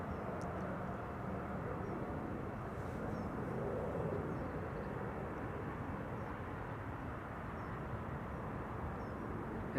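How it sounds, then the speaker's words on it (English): A KLM jet bound for San Diego departs runway 24 at Amsterdam Schiphol, its engines a distant, broad, steady roar that swells slightly midway, heard from outdoors near the runway. "And here is KLM flight 639 to San Diego"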